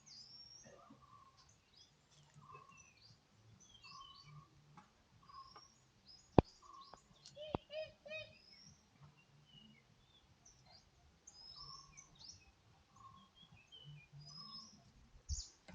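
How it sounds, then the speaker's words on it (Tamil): Birds call outdoors on a quiet hillside path, scattered chirps and tweets coming and going at a moderate distance over low background rustle, with a couple of sharp ticks midway. "அப்படியே சைலண்ட்டாக அந்த பறவைகள் கத்துற சவுண்ட்லாம் கேளுங்க"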